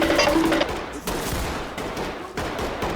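Dense gunfire in the tactical shooter Ready or Not, a sustained loud fusillade of overlapping shots with sharper bursts standing out, close and continuous throughout.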